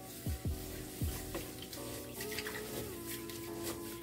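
Rice being washed by hand in a pot of water, steady swishing and sloshing with a few sharp knocks against the pot early on, close and moderately loud.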